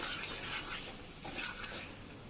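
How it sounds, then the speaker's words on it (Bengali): Chickpeas with tamarind, lemon and green chilli being stir-fried in a pan, a soft sizzle with brushing stirring strokes, fairly faint and without talk. "আবার একটু কষিয়ে নেব ভালো করে"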